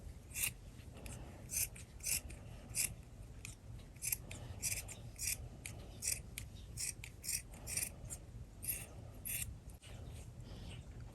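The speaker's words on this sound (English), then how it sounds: "From the sock here, you're going to cut about 2-inch circle." Scissors snip a circle out of a sock in a quick series of crisp, close cuts at a fairly regular rhythm, quiet overall with faint fabric rustle between snips.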